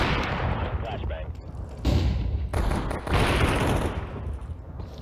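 Video game combat with flashbang grenades going off, dense bursts of blasts and gunfire with sharp loud onsets, voices talking through the noise.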